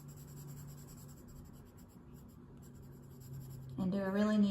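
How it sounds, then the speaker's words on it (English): Colored pencil scratches steadily across paper while filling in a one-point perspective cityscape drawing, a soft continuous rasping close to the mic, with a voice starting to talk near the end. "I'm going to color around it and fill in that space"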